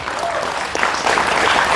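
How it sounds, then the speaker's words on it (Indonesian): An audience at a National Santri Day 2024 gathering applauds for Kuburaya, a short burst of dense clapping that swells slightly toward the end. "Tepuk tangan untuk Kuburaya"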